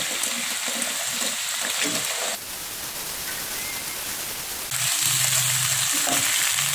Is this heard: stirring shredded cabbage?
yes